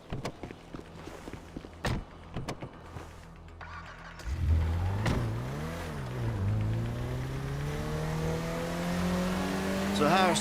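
Car in the GTA video game By The Book mission driving and revving, with the engine rising and sweeping in pitch, tires squealing near the end, and several voices talking over the game sounds at the start.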